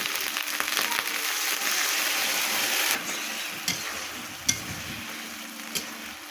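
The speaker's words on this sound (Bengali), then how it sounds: "আদা রসুনের পেস্টটা একটু ভেজে নেব" Ginger garlic paste sizzling and frying in a pan, a steady broadband hiss with a few sharper spatters and stirring knocks, fairly close and with no talking over it.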